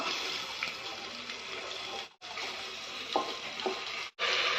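Soaked, drained rice is tipped into roasted dry fruits in a pressure cooker and sizzles with a steady hiss, broken by two brief pauses and a few soft stirring clinks.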